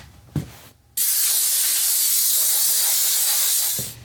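Compressed air blasts dirt and debris out of the housing on a Simplicity Sunstar tractor in one loud, steady hiss lasting about three seconds, with a short puff and a click just before it.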